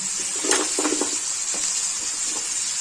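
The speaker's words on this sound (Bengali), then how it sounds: "পেঁয়াজটা ভাজা হয়ে গেছে অনেকটা লালচে ভাব এসছে এবার আমি এর মধ্যে দেবো গাজর কুচি" Onions frying in a pan with a steady sizzle, as chopped carrots are tipped in with a few soft clatters and stirring thumps at close range.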